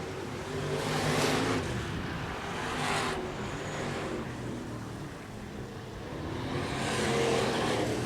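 Race cars in a qualifying heat race at Sunset Speedway Park, engines droning and swelling as they pass, a continuous roar that rises and falls from a moderate distance.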